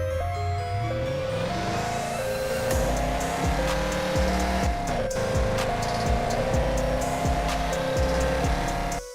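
A police car in the Police Sim 2022 mobile driving game, its engine revving up and dropping repeatedly as gears shift, with a tire squeal and a dense game soundtrack, loud and continuous with no talk.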